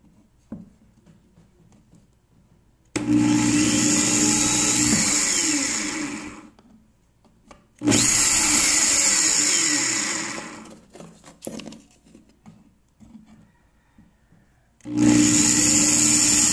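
A power drill fitted with a 1/4 inch bit bores holes for an external WiFi antenna mod in three loud bursts of whirring and grinding, each lasting a few seconds, separated by quiet pauses.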